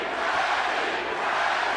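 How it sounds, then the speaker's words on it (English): A big boxing arena crowd at a Manny Pacquiao versus Timothy Bradley title fight roars in a steady, loud wash of cheering during the opening round, with no single voice standing out. "Crowd is into it already"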